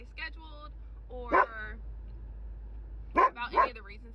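A pet dog barks nearby in short sharp bursts, one early pair and a later cluster of three, with quiet gaps between them and a low background hum.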